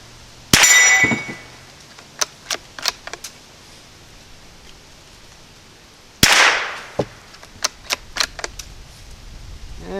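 Gunfire from a Ruger American rifle at an outdoor target range, two loud sharp shots several seconds apart, each followed by a quick series of ringing metallic clangs and echoing pings as the target is struck.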